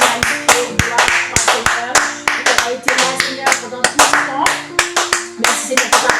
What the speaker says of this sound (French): Applaudissons-le avec moi pour la gloire de son nom.